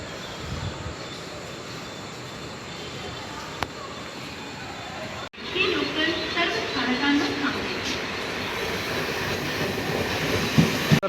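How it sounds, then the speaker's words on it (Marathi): A Mumbai suburban local train at a Goregaon station platform, a loud close rumble of carriages with clattering wheels building after a sharp thump midway, under ambient crowd noise. "ही सेकंड लास्ट ट्रेन असेल गोरेगाववरून आपल्याला चर्चगेटसाठी"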